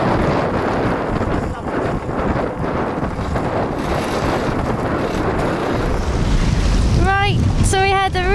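Strong wind buffets the microphone while waves rush and slosh around a racing sailing yacht, a steady loud roar with brief voices near the end.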